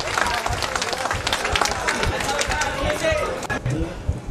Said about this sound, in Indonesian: Tepuk tangan untuk semua peserta.